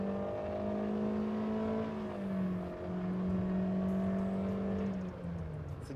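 Toyota Innova engine droning loudly under acceleration, a steady close cabin whine that rises and dips in pitch as the revs climb and shift, with no talk over it.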